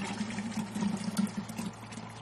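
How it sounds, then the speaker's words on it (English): Thick cream being poured into a butter churn, a soft, uneven glugging trickle of liquid that swells and fades over a couple of seconds, fairly quiet with no talking. "we've got to pour it into this butter churn"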